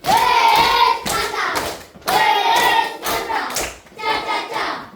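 A group claps a rhythmic appreciation cheer in a classroom, patterned bursts of many hands in repeating phrases with voices chanting along, loud and close.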